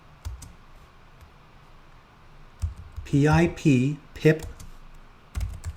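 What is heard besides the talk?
typing a command on a computer keyboard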